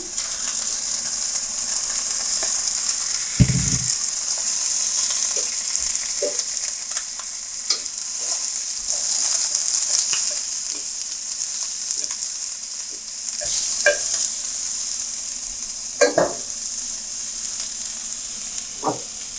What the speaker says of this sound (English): we can add the green beans on the pan.